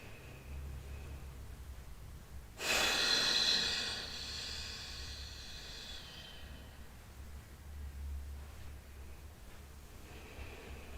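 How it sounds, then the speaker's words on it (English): One slow, deep inhalation taken close to the microphone, a soft airy rush that swells and fades over about two seconds against quiet low background hum, with no talking. "Take a nice deep breath in."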